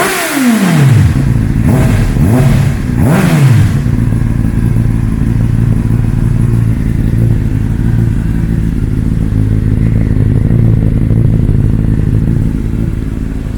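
Honda CBR600RR sport motorcycle engine blipped up several times in quick succession over the first four seconds, then settling into a loud, steady idle up close.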